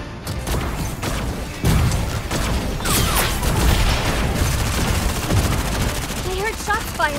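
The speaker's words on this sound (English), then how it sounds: "I heard shots fired." Rapid gunfire in the mech combat game Super Mecha Champions, dense bursts and explosive booms layered with game effects and music, with a voice speaking over part of it.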